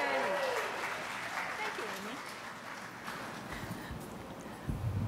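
An audience breaks into sustained applause and cheering for Leighton Oshima at a legal clinic gathering, a steady wash of clapping with voices calling out over it and a brief louder burst near the end.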